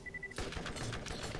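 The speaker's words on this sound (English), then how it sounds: "they're apparently machine gun turrets" Machine gun turrets firing in Borderlands, a dense burst of rapid sharp cracks that starts abruptly after a brief tone and rattles on for about a second, close and loud.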